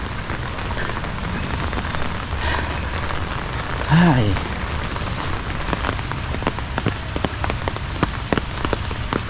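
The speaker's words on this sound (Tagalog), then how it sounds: "Kagabi pa itong ulan natin." Steady rain patters across surfaces in a constant dense hiss with scattered louder drops, and a voice briefly exclaims partway through.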